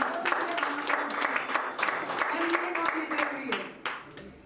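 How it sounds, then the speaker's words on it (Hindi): An audience at an office opening celebration claps steadily for a few seconds, with a voice faintly audible over the applause before it tapers off. "मैम के लिए एक और जोरदार तालियां"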